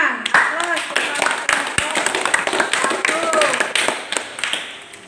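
Classroom applause for a student group's presentation, with a mix of individual claps and scattered tapping over several seconds and brief speech underneath.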